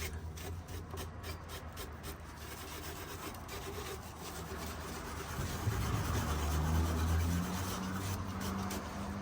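Abrasive paper rubs by hand across the timber of an antique floor lamp table in repeated close scratchy strokes, over a low steady hum that grows a little louder partway through.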